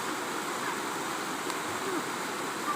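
A river current flows at a swimming spot with a continuous, even rushing wash, fairly faint and steady throughout, without clear voices over it.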